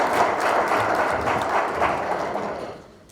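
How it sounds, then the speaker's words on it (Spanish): An audience applauds a speaker at a quality and innovation day event, dense steady clapping that fades out toward the end. "Recibimos a continuación con un fuerte aplauso a nuestro charlista, Cristian Vargas."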